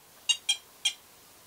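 Three short, bright electronic beeps come from a ToolkitRC M8S multifunctional smart charger, the first two close together and the third after a short gap. They are near and fairly faint against a quiet background, with no talking.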